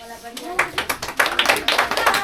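A small group of students clapping for a prize winner at a children's day games celebration, a loose, uneven patter of hands building quickly and continuing close by, with faint voices beneath.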